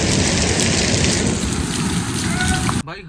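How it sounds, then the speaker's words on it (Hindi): Heavy rain pours down hard in a dense, continuous roar of water hitting surfaces, loud and close, then cuts off abruptly near the end. "बहुत ज़बरदस्त बारिश है भाई, बहुत ज़बरदस्त"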